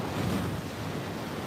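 Ocean waves washing onto the beach at Muaro Bayang in Pessel, a steady close roar of surf mixed with buffeting wind noise, continuous with no voices.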